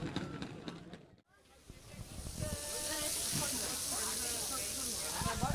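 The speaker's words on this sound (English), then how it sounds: "You hear that sizzle in stereo." Barbecue sizzling at a team bus picnic at the Tour de France: a steady broadband hiss fills most of the clip, starting loud after a brief gap, with voices and background chatter mixed underneath.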